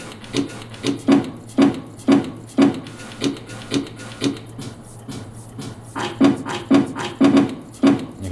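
A synthesizer arpeggiator set to a once-randomized order plays a steady stream of short, plucky notes with a soft percussive attack, pulsing at a regular tempo with slight variations in loudness.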